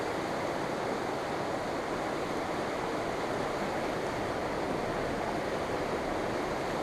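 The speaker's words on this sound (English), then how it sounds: "So let me get a river background going." A mountain river in Idaho's backcountry near North Fork rushes steadily and loudly, a constant broadband roar of flowing water heard close with no voices.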